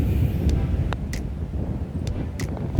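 Steady low rumble of wind buffeting the microphone outdoors on a golf putting green, with a few faint clicks scattered through it.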